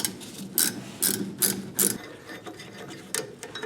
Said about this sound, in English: And this is the last bolt. So undo that.